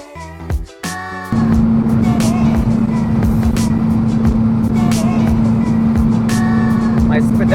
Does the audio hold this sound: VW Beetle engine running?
yes